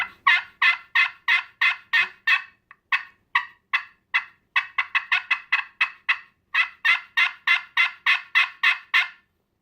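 Turkey friction call worked with a striker, giving a rapid run of sharp yelps in three bursts separated by short pauses, loud and close with no talking.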